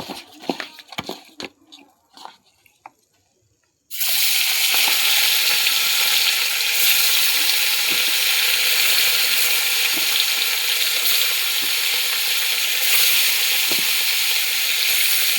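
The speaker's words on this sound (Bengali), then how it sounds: "দিয়ে দেবো মাছগুলো, নুন হলুদ মাখিয়ে" Fish rubbed with salt and turmeric hits hot oil in a pan and starts a loud, steady sizzle that holds with no break. A few soft kitchen clinks and knocks come just before the fish goes in.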